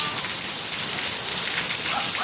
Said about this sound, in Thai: ไม่ออกไปฝนยังตกอยู่